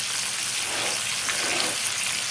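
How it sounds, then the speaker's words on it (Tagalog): Freshly caught flatfish fries in a pan, giving a dense, even sizzling hiss that stays close and loud for the whole moment, with no voices. "Piniprito na ni Baby Love."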